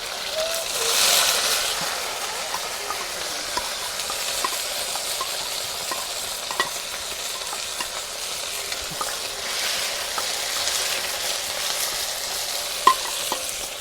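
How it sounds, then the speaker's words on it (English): Onion and tomato sizzle steadily in a hot pan for a village mutton curry, with occasional scraping and clicks of stirring throughout; fairly loud and close, no talking. "we are frying onion and tomato right now"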